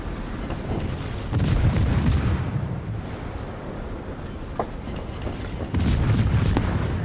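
Warship guns fire during a naval battle in the video game World of Warships. Two heavy booming salvos burst out of a continuous low rumble, one early and one near the end.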